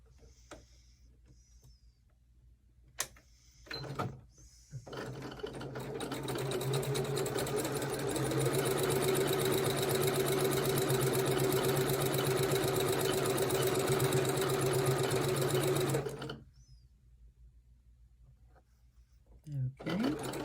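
A sewing machine stitches a seam on a snail trail sampler quilt block, running in one steady, close whir for about twelve seconds, with brief handling noises and a few short stitch bursts before and after.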